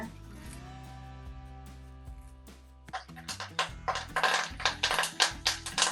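Mustard seeds splutter and pop in hot oil for ginger pickle, a run of crackling bursts that builds over the second half, with soft background music.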